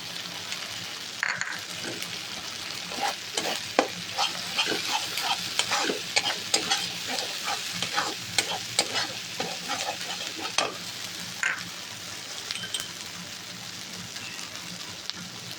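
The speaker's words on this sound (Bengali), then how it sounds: "এটা একটু ভালো করে এখন ভাজবো।" Raw banana kofta mixture frying with chilli powder in a pan, a crackling sizzle with frequent quick stirring clatters from a spoon, close and continuous without speech.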